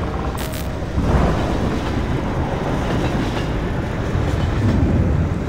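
A train rumbling past inside the video game Half-Life 2 Episode 1, a steady loud roar of rolling rail cars with clattering wheels that swells slightly after the first second and holds without a break; no talk.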